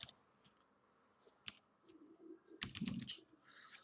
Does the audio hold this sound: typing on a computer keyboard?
yes